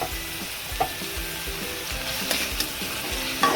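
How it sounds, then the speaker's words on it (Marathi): Garlic, ginger and curry leaves fry in a hot pan with a steady, close sizzle, broken by occasional stirring scrapes and small pops, with no voices. "त्यातच हे थोडंसं लसूण आणि थोडीशी अद्रक. तर हे पण आपल्याला फ्राय करून घ्यायचे."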